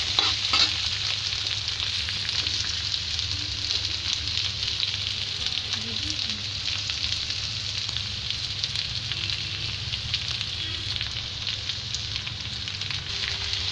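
Mixed vegetables frying in a pan give a loud, steady sizzle that never lets up, with stirring scrapes mixed in throughout.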